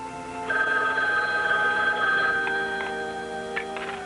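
Telephone ringing in a 1960s police radio drama, a steady electric bell with sustained, bright ringing that fades out near the end, alone with no voices.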